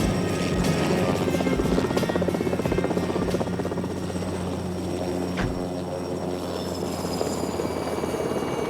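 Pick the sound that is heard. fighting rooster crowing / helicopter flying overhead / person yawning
helicopter flying overhead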